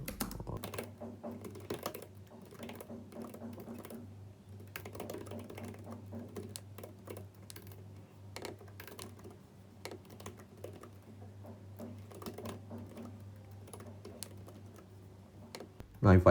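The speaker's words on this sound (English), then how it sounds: "I have to type only one line of code" Computer keyboard typing a single line of code, a steady run of quick close clicks and taps across the whole stretch, with a low hum beneath and no talking.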